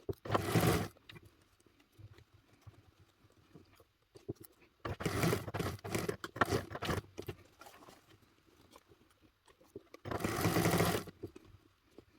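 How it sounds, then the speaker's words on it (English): A sewing machine stitches binding on with a quarter-inch seam in three short bursts of rapid mechanical whirring, separated by quiet pauses with faint handling noises. "we are sewing the binding on with a 1/4 inch seam allowance"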